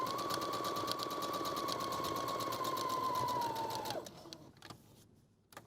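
A sewing machine runs steadily, stitching a seam while the fabric is turned to meet the starting stitches; a continuous whirring hum lasts about four seconds, then stops, leaving a few quiet handling clicks.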